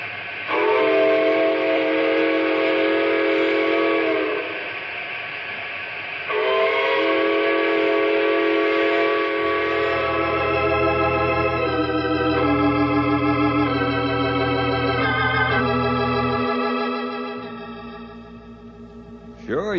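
A steam train whistle in a radio drama sounds in long harmonic chord blasts, with a low rumble of the locomotive joining partway through and the whistle repeating in shorter pulses near the end.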